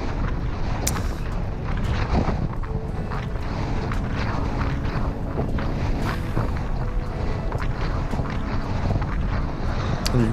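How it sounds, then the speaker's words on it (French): Headwind roaring across the microphone while cycling on a rougher road surface on a Tour de France 2021 stage route, a loud, constant buffeting rumble that fills the whole stretch. "à mon avis, il y a encore vent de face"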